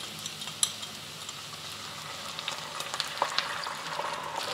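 A gravy mixture thickened with cornstarch bubbles and sizzles softly in a hot pan, a low, even frying hiss with light scattered clicks of a utensil stirring.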